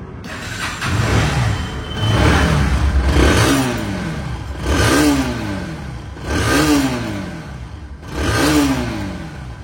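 A second-hand Bajaj Pulsar NS 160 motorcycle in showroom condition is revved close by in four strong, rising bursts, each easing back to a steady idle between throttle blips.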